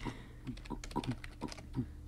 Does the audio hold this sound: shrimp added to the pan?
no